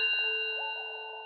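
Three bells, including an orange one, struck together in a single ringing chord that sustains and slowly decays with steady overlapping tones, clear and close.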